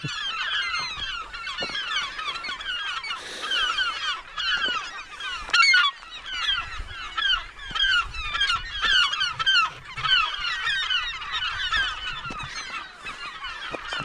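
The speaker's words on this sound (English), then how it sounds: "The seagulls are getting pretty darn close." Seagulls at a remote lighthouse on Lake Michigan, loud and close. Their harsh, honking calls overlap one another in quick, dense bursts that continue through the whole stretch.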